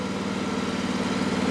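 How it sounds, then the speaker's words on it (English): A Digger King T30 mini loader's engine idles close by, a steady low rumble with a constant throb and no change in pitch, alone without talk. "I'll just fire it up for one tick. So that's just basically idling there."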